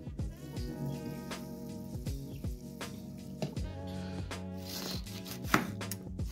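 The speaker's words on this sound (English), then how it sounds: "Now chopping the cabbage." Rapid, steady knife chops through cabbage on a cutting board, a dense rhythmic thudding with no talking.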